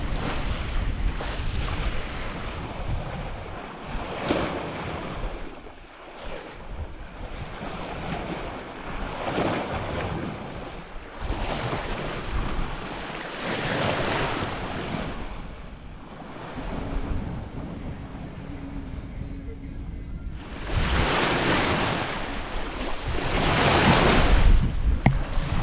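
Offshore, a solo sailboat under full sail moves at about six knots, with steady wind buffeting the microphone and repeated surges of waves washing and slapping against the hull, loudest toward the end.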